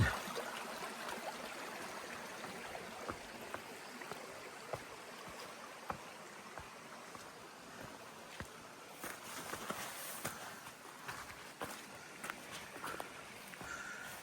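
A small brook, Sawyer Brook, runs over mossy rocks in a steady, soft, continuous babble and trickle heard close by, with faint patters and an occasional scuff of movement at the edge of the water.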